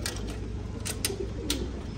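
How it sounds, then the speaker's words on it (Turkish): Mardin pigeons coo softly through steady background noise, with a few sharp clicks and rustles scattered throughout. "Burada böyle bizim Mardin kuşlarımızdan bir takım var."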